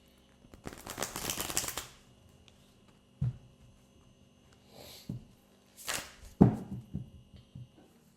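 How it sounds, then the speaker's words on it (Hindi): Tarot cards shuffled by hand in a quiet room: a long riffle of rapid flicking followed by a few shorter riffles and taps, close and clear with no talking. "एक और शफल लेंगे, उसके बाद आपके लिए कार्ड्स निकालते हैं।"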